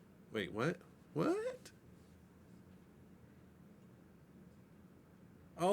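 A kitten meows faintly in the background, three separate short calls with the first two close together and the last near the end, over low room noise.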